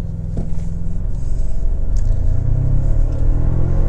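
A 2024 Toyota Tacoma TRD Pro pickup in 4-high and eco mode pulls away from a stop on a dirt road, its loud, close engine rumble rising steadily in pitch as it accelerates.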